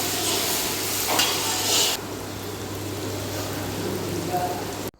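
Ginger garlic paste fries with onions in a pan, producing a close, steady sizzle with a louder burst of stirring early on before it settles into an even hiss and cuts off abruptly.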